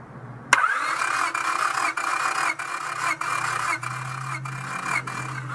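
An engine cranks on the starter during a wet compression test, a loud, steady rhythmic churning with about seven even compression pulses after an abrupt start.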